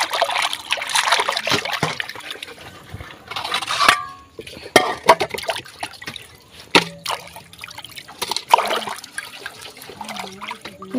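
Pangas fish and leafy greens are rinsed in water in a home kitchen: running water splashes and trickles with dripping, sloshing and occasional clinks of a pot, in uneven bursts throughout.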